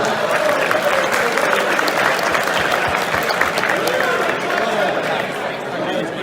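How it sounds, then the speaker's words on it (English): Audience at a card game tournament in Houston claps in a steady, dense round of applause, loud and sustained throughout with some crowd murmur underneath. "Please give us a round of applause."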